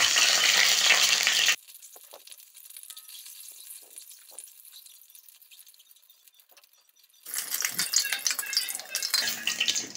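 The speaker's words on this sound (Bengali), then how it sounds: "আমি ডিমগুলো কড়াই সব দিয়ে দিয়েছি, দিয়ে এবার আমি এগুলোকে একটু হলুদ করে ভেজে নেব" Eggs fry in hot oil in a kadai with loud bursts of sizzling at the start and end, and a quieter stretch of faint crackling in between.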